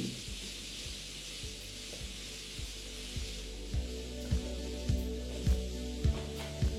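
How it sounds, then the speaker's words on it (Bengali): Chopped onions and dried chillies frying in oil over a high flame, a soft steady sizzle with a run of regular sharp knocks, like a spatula striking the pan, growing louder toward the end; no talking. "আর এটা আপনাদের ততক্ষণ ভাজতে হবে যতক্ষণ না পেঁয়াজটা হালকা একটু লাল লাল হয়ে আসছে"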